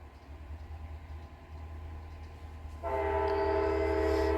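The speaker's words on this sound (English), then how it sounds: "Sorry about the train, y'all." A low rumbling train rolls by, then a loud sustained horn blast cuts in partway through and holds to the end, fairly close.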